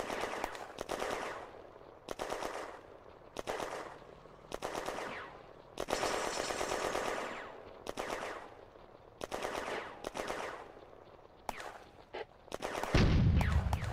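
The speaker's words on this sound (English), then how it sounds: "The French open a fire mission using the Stug as the target." Sustained bursts of heavy gunfire and explosive impacts from a war game artillery fire mission aimed at a German StuG, repeating in loud rhythmic volleys with brief gaps and a deep boom near the end.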